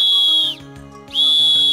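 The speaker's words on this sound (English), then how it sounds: "At 60 seconds, signal two whistles." A referee's whistle sounds two sharp, loud blasts close by, separated by a short gap, to signal that the offense should be ready, with no talking over them.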